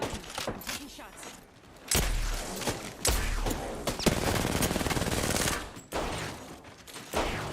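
Gunfire in an Apex Legends firefight: loud rapid automatic bursts and single shots crackling in quick succession, with a sustained volley in the middle, close and dominant.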